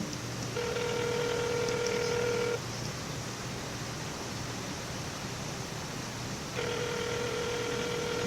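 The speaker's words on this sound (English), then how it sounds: "So we're gonna call and see if he answers here." A telephone call placed during a podcast: two long electronic ringback tones sound on the line, separated by a few seconds of hissing quiet, with no one talking.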